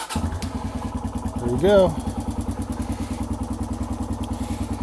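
A Kawasaki KLX140G dirt bike engine catches, briefly revs up, then settles into a steady, rhythmic close-up idle, with someone speaking briefly as it starts.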